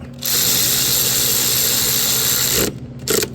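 A power tool tightens an alternator bolt on a 2013 Hyundai Sonata 2.4L, making a loud continuous whirring burst of about two and a half seconds, followed by a short second burst.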